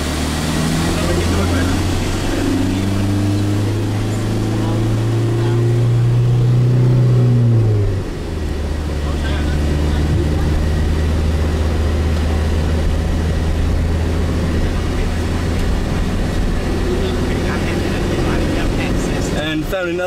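Car driving on the left on a highway out of Johannesburg airport, a loud steady engine drone with road roar inside the cabin, pitch rising then dropping as it shifts, continuing evenly throughout.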